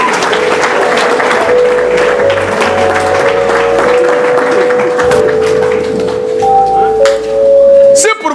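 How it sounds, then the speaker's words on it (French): A church congregation claps in loud, sustained applause at a French-language worship service, close and continuous, with sustained tones and voices mixed in underneath and a brief swell near the end. "Acclamons encore le Seigneur."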